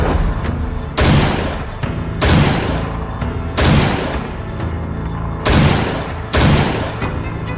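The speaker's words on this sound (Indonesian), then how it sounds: "Lima tembakan. Semuanya 10 cincin." Five loud gunshots at a target shooting contest, each a sharp blast with a ringing decay, spaced roughly a second or more apart in an even rhythm, close and dominant with no talking.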